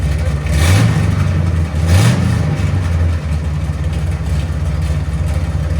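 A 1970 Chevy Chevelle SS 454 big-block V8 with headers and straight-pipe exhaust rumbles loud and close, with two sharp revs early on over a deep, steady idle and no talk.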